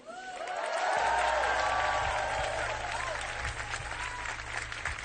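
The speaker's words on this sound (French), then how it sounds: "dès qu'il y a une fille en fleurs, tout le monde applaudit" Studio audience at a French TV singing game show breaks into applause after a sung line, a dense sustained clapping wash with music continuing underneath, fairly even and moderately loud throughout.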